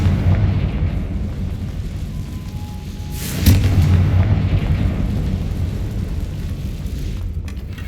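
A Confringo blasting curse explodes in Hogwarts Legacy with a single sharp boom midway. It rises out of a continuous low rumbling background and then fades back into it.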